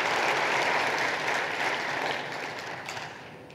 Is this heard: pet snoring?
no